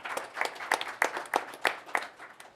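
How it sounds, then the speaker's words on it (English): Audience applause at a boxing press conference for Andy Ruiz vs. Anthony Joshua 2, a crowd clapping in a steady ragged patter with regular louder bursts, moderately loud and continuous. "Let's have a round of applause."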